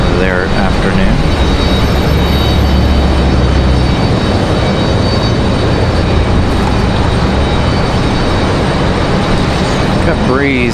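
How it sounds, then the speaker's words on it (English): A Breeze Airways Airbus A220-300 jet departing Raleigh Durham airport gives off a steady, loud, broadband engine roar that holds constant throughout, with a faint whining tone on top. "Got Breeze Moxie 854 departing to Albany at A220 300."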